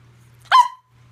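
A pet dog named Fox gives a single short bark-like vocalization, close and loud, rising then trailing off, with quiet background before and after.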